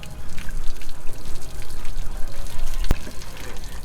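Water and sediment drain steadily from an RV water heater in a continuous trickling, splashing flow, fairly close and even, with one sharp click near the end.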